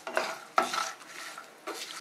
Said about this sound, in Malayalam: ഇനി നമുക്കിത് നല്ലതുപോലെ ഒന്ന് വഴറ്റി കൊടുക്കാം.